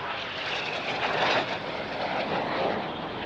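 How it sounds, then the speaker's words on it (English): Fast jets roaring overhead at the Gdynia Aerobaltic airshow, a loud, steady broadband rush of engine noise that swells slightly and holds for the whole stretch, with no voices. "Fast jets doing mental stuff in the air."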